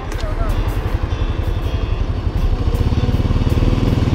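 A motorcycle engine on a night delivery ride, a loud, fast, steady pulsing putter close by, with a voice over it.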